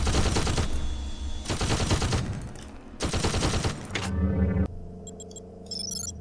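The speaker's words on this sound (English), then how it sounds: "there was a turret that I did not see" Automated security turret firing in the System Shock 2 game, loud bursts of rapid shots broken by short pauses, ending in electronic beeping tones.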